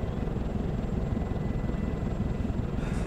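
In the video game ArmA 2, a helicopter's steady rotor and engine drone fills the scene, loud and continuous, with no voices.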